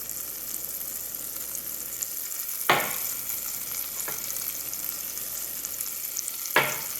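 Golden oyster mushrooms sizzle steadily in a hot pan, a close, even hiss with a couple of sharp clatters as they are stirred or tossed.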